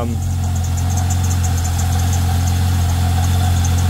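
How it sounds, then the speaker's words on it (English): A car engine idles steadily with a noisy alternator drive belt, a constant close hum and rumble running throughout with a faint high whine above it, no voices. "a bit more wax on that drive belt to quieten him down"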